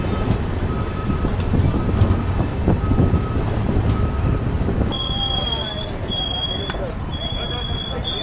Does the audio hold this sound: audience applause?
no